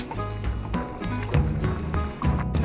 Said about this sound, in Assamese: যিহেতু মোৰ এতিয়া উতলি আছে